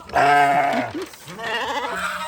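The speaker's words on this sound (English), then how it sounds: "Look at our herd of sheep." A herd of sheep in Ghana bleats nearby, one loud drawn-out call followed by several shorter overlapping bleats from other animals.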